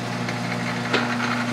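A lathe cutting square threads gives a steady, mid-level mechanical hum with a brief scraping accent partway through, no voices present.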